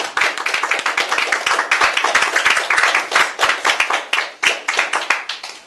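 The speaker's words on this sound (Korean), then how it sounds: "큰 박수 부탁드리겠습니다" Audience applause at a Korean political party event, with the crowd clapping for a married couple who joined a fund campaign, a dense, steady burst of many hands close by that thins out toward the end.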